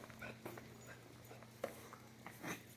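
A Great Pyrenees puppy whimpers faintly in a few soft, brief whines scattered across a quiet background, with no talking.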